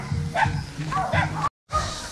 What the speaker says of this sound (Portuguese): tem muito cachorro na rua aqui